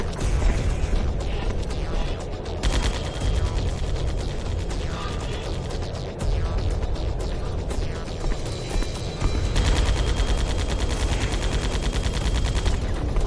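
Enemy gunfire in Metal Gear Solid: The Twin Snakes, a long steady stream of rapid automatic shots with clattering mechanical noise, moderately loud and continuous throughout, no talk.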